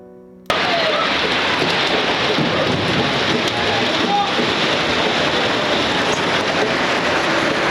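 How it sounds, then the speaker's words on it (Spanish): Heavy rain over the canals of Xochimilco, Mexico, starts abruptly after a brief quiet moment, then pours steadily and loudly with a dense, unbroken hiss. "Así se lloviendo con todo. Se vino fuerte"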